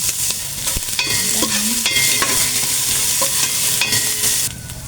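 Garlic and ginger frying in a pan for sinigang with barracuda head, a loud steady sizzle close up with repeated scraping and clinking of a spatula stirring.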